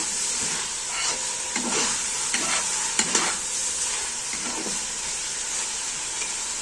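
Food, including turnip, sizzles steadily in a hot pan with occasional stirring scrapes, close up and moderately quiet, no voices.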